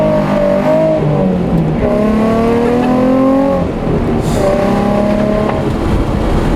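A drift car driven on a street, its engine loud and close, rising and falling through revs and gear changes with no talking.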